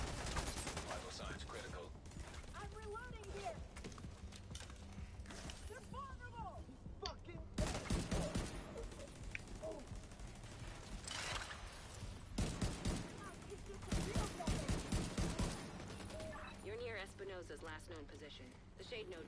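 Bursts of automated turret gunfire in The Division 2, rapid and loud in the foreground, mixed with other shooting and game effects while players talk over it.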